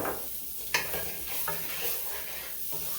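Green onions saute in melted fat in a pan over raised heat, a close, continuous bright sizzle with a few soft stirring scrapes.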